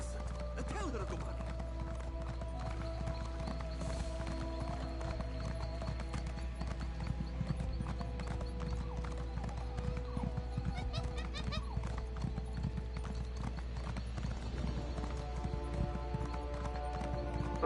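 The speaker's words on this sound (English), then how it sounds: "Let's hop on the horse." Steady clip-clop of horse hooves from a video game runs throughout under game music and a dense mix of other sounds.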